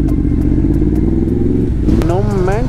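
A motorcycle engine rumbles loudly and steadily up close, then its pitch rises as it revs, with rattling and wind noise around it.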